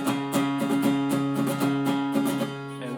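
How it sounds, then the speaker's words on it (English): Electric guitar strumming a fast, driving chord pattern from a song, with sharp regular strokes in steady rhythm, close and clear without any talking. "That strum sounds kind of like this."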